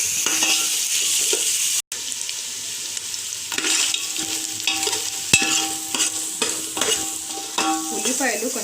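Onions frying in a pan for prawn biryani, a steady hiss of sizzling oil with intermittent stirring scrapes and clinks, close and fairly loud throughout, no talking.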